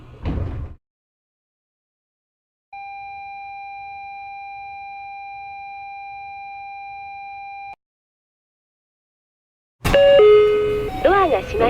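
A bus-style door chime plays on a Kintetsu 9000 series train: one steady electronic tone held for about five seconds, set off by silences, with train announcements before and after.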